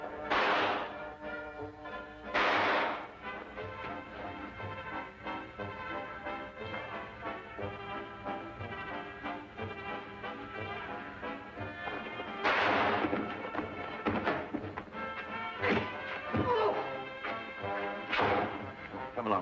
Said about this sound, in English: Well, go on, Watson, fire it